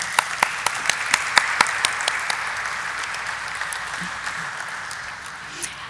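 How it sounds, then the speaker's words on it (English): Audience applause at a stock exchange IPO listing ceremony, opening with a few distinct claps that quickly merge into sustained, moderately loud clapping from a seated crowd before tapering off. "I guess that deserves a round of applause"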